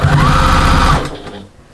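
A sewing machine stitches binding over the raw top edges of a fabric storage caddy, giving a close, steady, fast whirring run for about a second before it stops.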